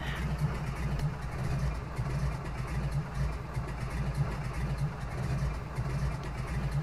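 A bush plane's piston engine in Flight Simulator X drones steadily with a low pulsing throb, held at high power for takeoff, heard up close with no talk.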